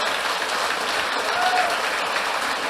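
A church congregation at a Sunday service applauding in praise, a steady dense wash of many hands clapping, fairly loud and continuous throughout.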